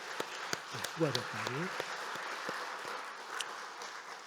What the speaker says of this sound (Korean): 한번 박수 한번 쳐주시면 감사합니다